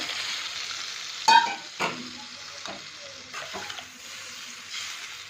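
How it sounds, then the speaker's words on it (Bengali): Potatoes and eggplant sauté in a pan for a bhola fish curry, with soft continuous sizzling and several scraping stirs at close range. The sound is fairly quiet throughout. "এক মিনিট কষে নেব কষে নিয়ে তারপরে জল দিয়ে দেব"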